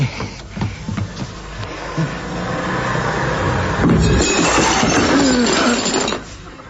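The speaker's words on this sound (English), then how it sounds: "I smashed his porcelain." Porcelain smashes with a vacuum cleaner involved in a Steptoe and Son radio comedy sound effect: a loud, sustained rattling crash of breaking crockery that swells midway and stops abruptly.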